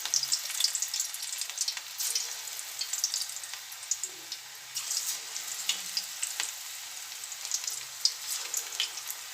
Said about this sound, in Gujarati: આપણે આ રીતે ફેવરીને સરસ ગોલ્ડન થાય ત્યાં સુધી તળવા દઈશું.